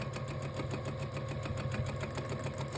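A domestic sewing machine doing free-motion stipple quilting through layered flannel, wool batting and t-shirt cotton runs steadily and close, its fast needle rhythm a continuous mechanical whir with regular ticking pulses and no talk.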